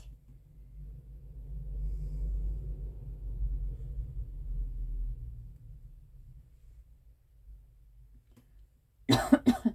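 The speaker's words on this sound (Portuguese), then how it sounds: "nós aqui estamos todos tossindo, espirrando, mas é por conta do clima" One close cough bursts out in quick, harsh repeated hacks near the end, after several seconds of low, muffled rumbling with faint breathing in a quiet room.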